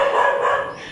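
A dog at a house rental in Dumaguete, the Philippines, gives a short, harsh bark or drawn-out yelp, close and fairly loud, over about a second with no speech.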